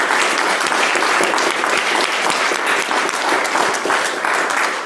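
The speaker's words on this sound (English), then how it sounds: "let's give one more round of applause to Dr. Klein." A workshop audience gives a speaker a round of applause, dense, sustained clapping from many hands at a steady, loud level throughout.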